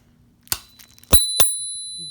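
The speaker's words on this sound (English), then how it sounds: "little horn, little bell horn, not bad." The small bell horn on a Hover-1 electric scooter is rung three times, sharp and close, with the final ring left to fade out.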